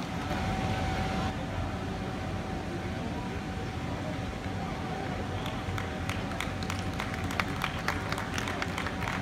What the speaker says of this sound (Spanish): Ese aplauso para Paco Arcilla